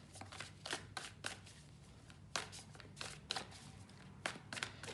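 Tarot cards being shuffled in quick riffles and bridges, each burst a crisp papery flutter followed by soft taps, repeating irregularly across the stretch at close range with no talking.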